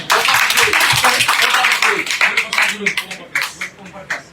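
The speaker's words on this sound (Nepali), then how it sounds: "जोरदार ताली" Loud, dense applause and clapping from a large crowd at a grand political ceremony in Biratnagar marking a district committee's formation, sustained throughout with some voices mixed in.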